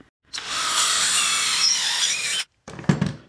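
A power drill whines steadily for about two seconds as it bores a hole, stops, then a few short scraping knocks follow.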